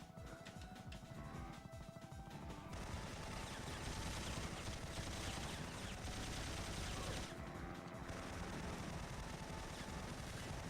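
Rapid gunfire in the game Syphon Filter, heard as dense continuous bursts of automatic shots that stay loud and steady for the whole stretch, with heavy crackling impacts and no talking.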